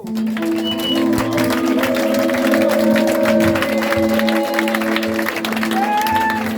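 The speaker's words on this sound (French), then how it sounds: "Est-ce que tu peux lui donner une fond d'acclamation?" A church congregation applauds and cheers during a worship service, a steady wash of clapping running under sustained musical tones for several seconds.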